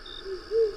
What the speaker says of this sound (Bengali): বাড়ির বাইরে থেকে মাঝে মাঝে প্যাঁচার ডাক শোনা যাচ্ছে।